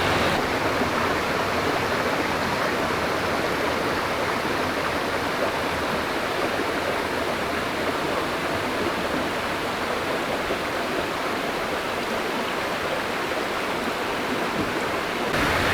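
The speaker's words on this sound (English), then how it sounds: "all you hear is just the water" Natural spring water at Iargo Springs in Northern Michigan flows in a steady, full rush that stays constant and close throughout, with no voices.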